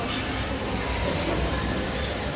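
A commuter train rides along on a quiet Sunday, giving a continuous loud rumble of wheels and carriage noise from inside the car, steady throughout with no clear talk.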